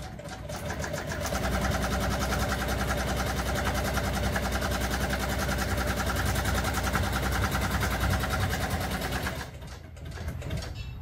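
An upholstery sewing machine stitches an old truck seat cover, running in a fast, steady mechanical chatter at close range for about nine seconds before it stops abruptly.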